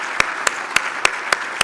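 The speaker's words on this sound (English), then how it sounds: "let's give all of our winners a grand round of applause" An awards-ceremony audience claps for the winners at the Peace and Dialogue Awards, six sharp, evenly spaced claps ringing out in a slow, steady rhythm.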